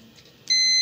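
Electronic beep from an LED TV with a fuse that keeps blowing: a single sustained, steady tone begins about halfway through after a near-silent stretch, loud and close, then cuts off just before the end.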